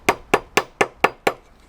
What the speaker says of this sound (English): Genuine American hickory Salatus hammer